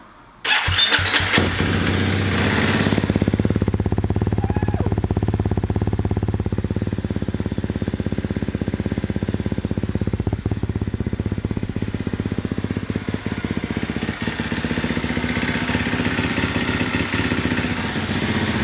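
A new motocross bike engine starts with a sharp burst, then runs steadily and loudly close by for the whole stretch, with a slight shift in tone partway through and no talking.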